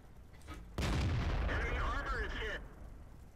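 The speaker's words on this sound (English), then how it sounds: "AMX 1390 is still up there, I think, shooting away at the house. Wow, it's like constant fire." Tank cannon fire during a World of Tanks battle: one loud, broadband blast hits, followed by a sustained rumbling roar that lasts about two seconds before cutting off, and faint voices are in the background.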